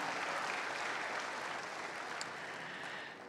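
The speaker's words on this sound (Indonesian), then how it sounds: "Mari kita semua beri tepukan pada adik-adik kita semua." A congregation claps for a children's dance at an Easter church service, producing a steady, broad wash of applause from many people that tapers off slightly at the end.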